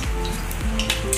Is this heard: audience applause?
no